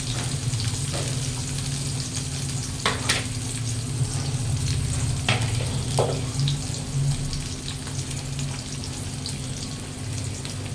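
Chopped onions and a tomato, garlic and onion paste frying in oil in a pan, a steady close sizzle with a few sharp crackles and spatters, no voices.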